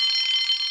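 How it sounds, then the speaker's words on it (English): A short, high, steady electronic alarm tone rings out loud and alone for under a second, used as a sound effect in a toy train story. "Soon came the alarm."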